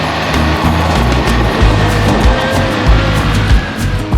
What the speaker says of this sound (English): shall I do a burnout?